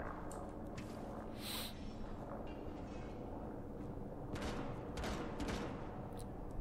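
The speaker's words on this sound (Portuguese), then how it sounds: "Tiro na esquerda, mano." Gunfire in the video game Rainbow Six Siege, a series of muffled shots and bursts scattered through a steady, noisy game soundscape, moderately loud with no clear talking over it.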